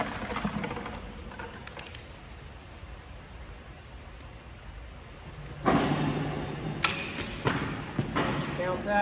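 Arrows loosed from a bow during aerial archery thump into a target in several sharp, irregular impacts over the last few seconds, following a stretch of quieter outdoor background.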